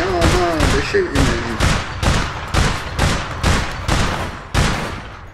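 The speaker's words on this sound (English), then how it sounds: "Oh no, they're shooting me." Repeated gunfire from the APB Reloaded video game, a dozen or so sharp shots at a steady rhythm, loud and close, over game sounds with a brief musical tone early on.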